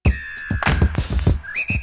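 Pitched-down drum sample run through Maschine's vintage mode, giving dirty breakup: a string of punchy low hits over a couple of seconds with a whistling, tonal ring layered on top.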